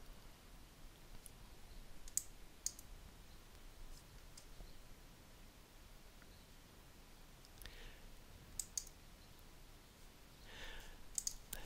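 A computer mouse clicks a few times during an Arduino IDE library install, sharp isolated clicks, some in quick pairs, faint and close over a quiet room hiss.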